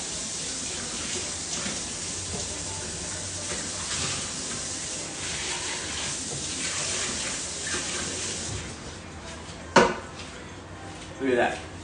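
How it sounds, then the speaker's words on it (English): Running tap water splashing into a smoothie blender jar as it is rinsed in a kitchen sink, a steady close rush lasting most of the time, then a couple of clunks as the jar is handled. "Since this is still wet, I'm going to rinse this real quick"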